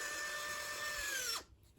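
Nike Mag auto-lacing motor tightening the laces, a faint, thin high whine that holds steady and then dips in pitch as it strains, cutting off abruptly after about a second and a half.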